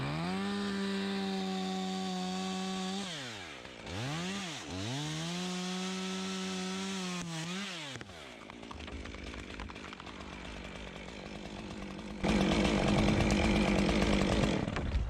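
A chainsaw cuts through a big tree branch: a steady engine whine that dips twice as the load changes, then a rougher, noisier bite into the wood that grows louder near the end, close and sustained.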